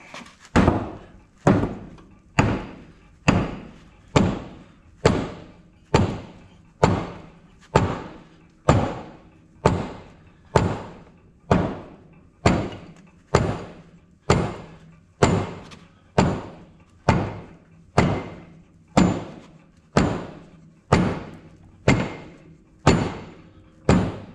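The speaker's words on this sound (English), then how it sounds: "I'm going to start hitting this back pulley and getting some of the slack out of it." Someone strikes the back track pulley of a Ditch Witch SK800 compact utility loader with repeated heavy metallic thuds, about two dozen evenly spaced blows roughly one per second, each ringing briefly, close and with no talking.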